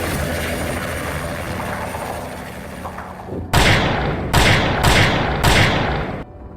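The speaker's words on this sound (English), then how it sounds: "the sound of a helicopter came from the sky behind" A steady roar of wind or engine noise gives way to heavy rhythmic whooshing thumps of helicopter rotor blades, loud and close, repeating four times.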